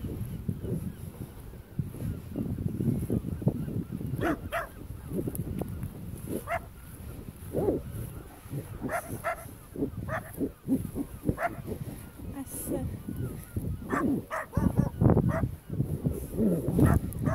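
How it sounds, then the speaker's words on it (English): A neighbour's dachshund barks outdoors during an afternoon walk: a run of sharp, repeated barks at moderate distance, irregularly spaced over steady wind and rumbling background noise. "That's a dash hound barking."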